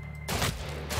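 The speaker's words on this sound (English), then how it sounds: "better switch to the revolver" Revolver gunfire in the video game Weird West: a sudden loud burst of shots breaks in after a quiet moment and carries on as dense crackling bangs.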